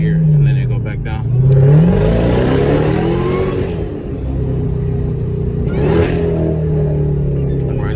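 A car shifting through its gears with paddle-style plus shifting revs hard and climbs in pitch, then drops back and settles into a steady, loud engine drone, with another brief rev near the end.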